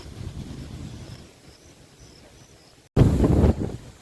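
Wind gusting against the microphone outdoors by a river in the Sundarbans under a darkening storm sky, a low steady rumble that suddenly surges into a loud, blustery burst near the end.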